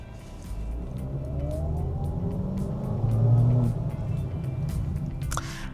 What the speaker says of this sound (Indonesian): kita akan ngetes tarikannya seberapa enak ya si XL7 ini.